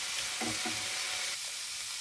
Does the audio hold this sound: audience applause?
no